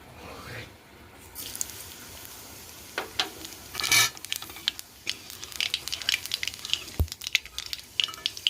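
Black cumin seeds go into hot oil in a pan and give a faint, light crackling sizzle with scattered small pops and clinks, growing busier after a few seconds.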